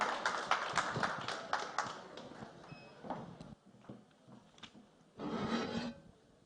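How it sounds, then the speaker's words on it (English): Applause at a NetOne customer appreciation cocktail as the chairman steps forward for closing remarks: dense clapping at the start thins out, then a brief fresh swell of claps rises near the end. "So, a round of applause as he comes forward to just give us our closing remarks"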